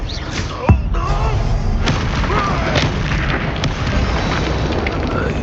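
Explosive spell blast in the Hogwarts Legacy video game: a loud, sharp boom near the start followed by dense, continuous rumbling battle noise and scattered impacts.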